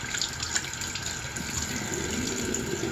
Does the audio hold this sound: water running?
yes